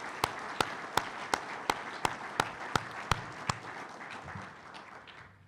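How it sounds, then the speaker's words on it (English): Audience applause at a chamber of commerce local government event, a broad wash of clapping with one sharp, regular clap standing out up close before fading away. "Let's give all these organizations a round of applause,"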